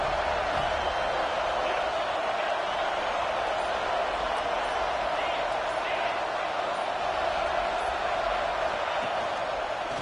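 Stadium crowd roaring continuously in the NCAA 26 college football video game, Florida at Florida State, a dense steady wall of cheering that holds at a constant level, with a commentator talking over it.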